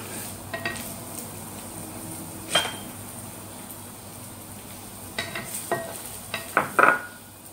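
Garlic and onion cook in a pan for an instant noodle and vegetable dish with a faint steady sizzle, broken by scattered clinks and scrapes of a utensil against the pan that cluster near the end.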